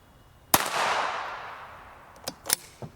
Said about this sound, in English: Intentionally I shoot these far apart so that we can make sure the bullet holes are nice and stable